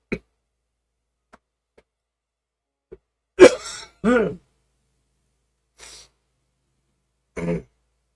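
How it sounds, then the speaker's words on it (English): A few short, isolated coughs or throat-clearing bursts, close and fairly loud, separated by quiet gaps, with a faint trailing one near the end. "Coughing."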